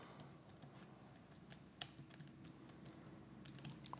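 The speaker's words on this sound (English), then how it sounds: "Let's start now typing." Fingers type on a computer keyboard, a quiet run of uneven key clicks with one sharper tap near the middle, close and alone.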